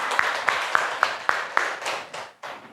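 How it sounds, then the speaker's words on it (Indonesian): Classroom audience clapping after a group's presentation, about eight distinct evenly spaced claps at a moderate tempo, fairly faint, the last few softer and blurring together. "Kita dulu tepuk tangan dulu ya."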